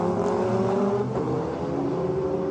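The Elf La Filière Courage prototype, car number 15, runs at Le Mans in 1998 with a steady, loud engine drone that holds a sustained tone throughout and carries no speech.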